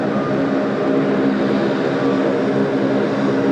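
A Boeing 737 MAX departs runway 34 left at Sydney Airport, its engine roar heard as a steady, loud, broad rumble without pause and no voices.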